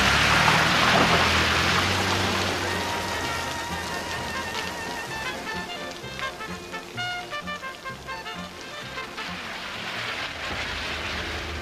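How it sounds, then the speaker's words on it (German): Steady rain pours down outdoors, a dense, even hiss of drops spattering on surfaces, with faint dripping taps and a soft background wash carrying on throughout, no voices present. "du, aufsteh, es regnet."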